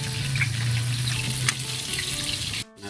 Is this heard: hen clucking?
no